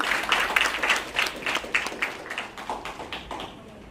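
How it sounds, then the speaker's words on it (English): An audience claps for a panel at a live-streamed event, a steady patter of many hands that thins and fades out over a few seconds. "A hearty clap to my panelists"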